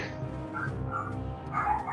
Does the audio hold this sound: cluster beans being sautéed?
no